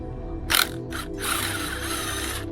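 A ratchet clicks close and loud while loosening the sprocket bolt on a 2022 Honda Grom, two short bursts of rapid pawl clicks followed by a longer continuous ratcheting run.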